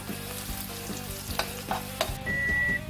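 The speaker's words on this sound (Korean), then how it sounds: "대파랑 고추 고추기름하고 파기름을 넣는 거예요" Scallion and chili frying in chili oil and scallion oil for spicy braised chicken: close, crackling sizzle with stirring scrapes and utensil taps against the pan, growing louder and denser toward the end, no talking.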